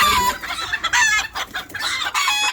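Several close, loud bursts of clucking and squawking from chickens fighting, broken by short pauses.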